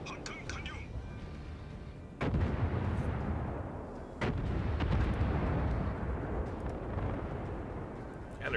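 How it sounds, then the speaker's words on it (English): Heavy naval gunfire shelling a ship in a war game: two sharp, loud blasts land about two seconds apart, each followed by a long rumbling roar that fills the background, with soft voices faintly underneath. "And there's some shelling of the Phoenix."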